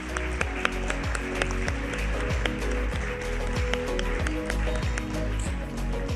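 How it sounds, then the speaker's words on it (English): An audience at a tech event gives a sustained round of applause, steady and moderately loud, with sharp claps standing out over a rhythmic thumping beat of background music. "Please give them a long round of applause."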